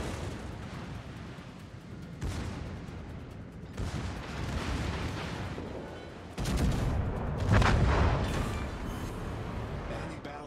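Naval guns fire in the Blitzkrieg war game as a series of heavy, rumbling blasts that overlap into a continuous barrage, with the loudest burst near the end.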